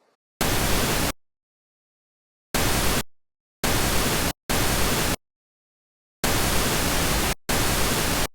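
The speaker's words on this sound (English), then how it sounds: "Simple, just use the pink noise." Pink noise plays in six separate bursts of differing length, each a steady full-band hiss that cuts off abruptly into silence.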